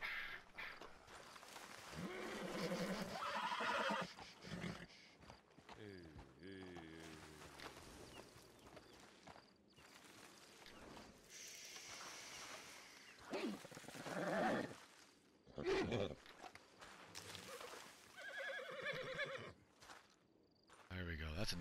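A video game horse neighs repeatedly amid clip-clopping hooves and other game sounds, with loud bursts and quieter gaps, and someone talks over parts of it.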